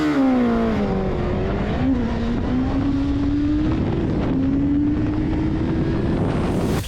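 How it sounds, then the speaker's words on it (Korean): A Suzuki Hayabusa motorcycle accelerates hard with a quickshifter, its loud, close engine note climbing steadily, dipping briefly at quick gear changes and then rising again. "직선 주로로 나와 스로틀을 비틀고 퀵시프트로 빠르게 변속하다 보면"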